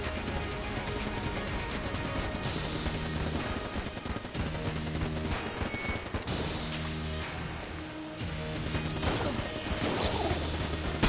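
Grenade blasts and dense gunfire from the Enter the Gungeon video game, a steady loud barrage of repeated bursts and crashes over game music, with no talking.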